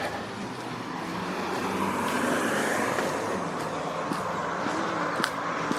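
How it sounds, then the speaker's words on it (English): Steady road traffic rolls past at moderate distance, a continuous broadband roar of cars with a few faint clicks and brief tonal beeps near the end. "I apologize in advance for the traffic noise."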